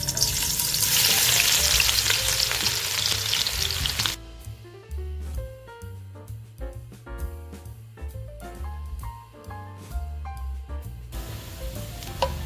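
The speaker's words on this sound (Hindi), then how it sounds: "अब हम इसमें ये लहसुन और अदरक डाल देंगे" Garlic and ginger fry in melted ghee, starting as a loud dense hiss and sizzle for a few seconds before music with a clear melody and beat takes over, frying fading beneath it.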